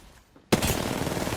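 Rapid automatic fire from an R99 submachine gun in Apex Legends erupts after a quiet moment, a sharp loud onset followed by a sustained dense stream of shots, close and harsh, with no talking.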